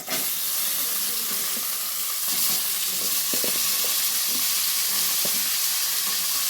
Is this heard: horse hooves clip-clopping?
no